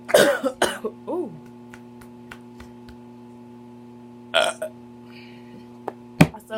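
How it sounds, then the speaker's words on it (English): A big, drawn-out burp after drinking, followed by a couple of shorter burps and coughs, loud and close, with quiet gaps between them and a faint steady hum underneath. "I said I'm finna keep burping."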